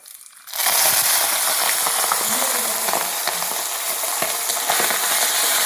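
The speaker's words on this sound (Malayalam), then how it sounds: "ഇതിലേക്ക് നമ്മൾ എണറിട്ട് കൊടുക്കുകയാണ് കേട്ടോ." Fish enar fries in hot coconut oil as it is stirred, giving a loud, dense, continuous crackling sizzle that starts abruptly and stays close and steady, with occasional scraping strokes and no talking.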